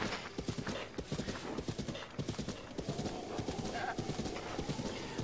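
Video game horses: rapid clip-clop hoofbeats patter steadily throughout, with a short whinny rising near the end, loud and close.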